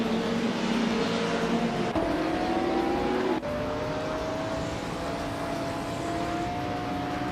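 Race cars in a racing video game, including a 1996 Alfa Romeo 155, with steady engine whine and rising revs broken by gear-shift drops, continuous and close.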